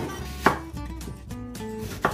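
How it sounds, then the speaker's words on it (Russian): A knife chops through an onion on a board, slicing half rings, with two sharp, distinct cuts about a second and a half apart, up close and fairly quiet. "мы нарезаем наш лук меленькими полукольцами"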